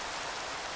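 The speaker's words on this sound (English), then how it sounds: "Hey, the rain right on cue." Steady rainfall in the game Minecraft, a brief, even wash of soft hiss with no distinct drops, heard alone without any voices.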